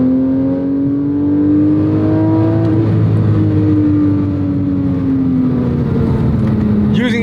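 A Porsche 997.1 GT3 flat-six engine drones loudly and steadily at close range, its pitch climbing gradually and then dropping and rising again, with a voice speaking over it.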